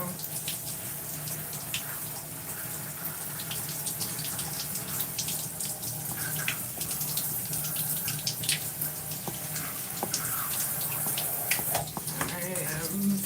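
Steady running water from a tap while hair is rinsed, a continuous close splashing flow with a few drips and shifts in the stream, and no talk over it.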